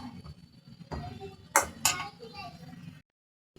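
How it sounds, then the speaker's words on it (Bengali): Tilapia fish with potato and yardlong beans is stirred in a pan with turmeric, salt, chili powder and onion paste. A few sharp utensil clinks and soft scrapes come through with quiet voices in the background. "আমি এখন হলুদ, লবণ, মরিচের গুঁড়ো, পেঁয়াজ বাটা এগুলো দিয়ে সুন্দর করে নেড়ে নিচ্ছি।"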